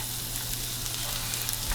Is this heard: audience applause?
no